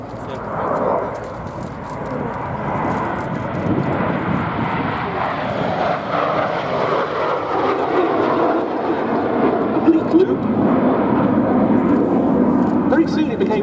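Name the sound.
Jet Provost jet trainer aircraft flying at airshow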